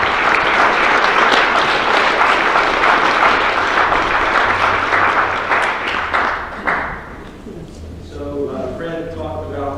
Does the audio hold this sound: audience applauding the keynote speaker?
yes